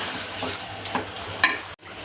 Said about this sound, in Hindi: ये टोमेटो डाल के इसको अच्छे से थोड़ा भूनने दूंगी मैं